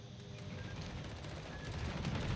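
Naval guns fire in the World of Warships game, a faint stretch of dense, rumbling booms that grows slightly louder toward the end.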